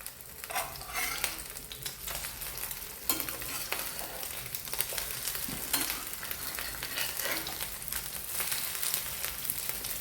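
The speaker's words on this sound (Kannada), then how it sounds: "ಇದು 2 ಕಡೆ ಕೂಡ ಫ್ರೈ ಆಗಬೇಕು. ಈಗ ಫ್ಲೇಮನ್ನು ಒಂಚೂರು ಹೈ ಮಾಡಿದ್ದೇನೆ." A homemade burger patty fries in a pan over high flame, giving a steady, close sizzle with crackling bursts and occasional stirring scrapes throughout, with no talking.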